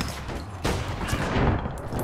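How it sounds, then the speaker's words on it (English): Gunfire in the online shooter game APB Reloaded, a burst of rapid loud shots and cracks over dense background noise. "What did I get shot by?"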